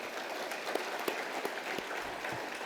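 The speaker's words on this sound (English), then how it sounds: "Let's give her a good round of applause." Light, scattered clapping from a small audience at a committee meeting, a few distinct claps standing out over a soft, steady room hiss.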